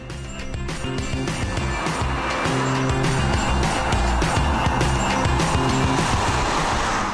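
Volkswagen Golf being driven hard, a close, steady engine drone with shifting pitch as it accelerates through gears, continuous and fairly loud.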